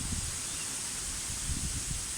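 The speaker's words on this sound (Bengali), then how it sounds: "আজকে মেঘময় আকাশের সাথে দেখতে পাচ্ছেন প্রচণ্ড হাওয়া বইতেছে" Strong wind blowing under a cloudy sky ahead of rain, a steady broadband rushing roar with low gusty rumbles buffeting the microphone throughout.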